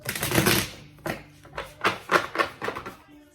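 Crisp bursts of tarot card shuffling, a long riffle followed by several shorter flicks and snaps, close by with no talking.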